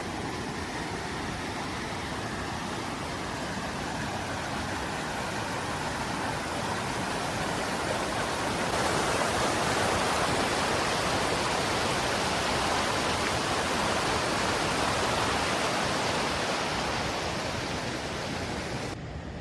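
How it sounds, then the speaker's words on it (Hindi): A river of glacier meltwater flows through a high mountain valley, a steady, dense broadband rush that swells slightly louder midway and continues unbroken with no voices. "यहाँ पर एक रिवर आगे से फ्लो हो रही है"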